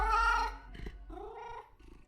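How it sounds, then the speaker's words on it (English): A cat in the video game Death and Taxes gives a short melodic meow, two brief rising tonal calls close and clear against silence. "The cat notes melodiously."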